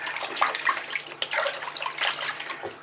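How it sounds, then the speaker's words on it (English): Dreadlocks being dunked and shaken around in a basin of water, continuous splashing and sloshing close by, fairly loud and busy with no pauses. "you want to put the whole dreads in there, into the water, shake it around, pull them out"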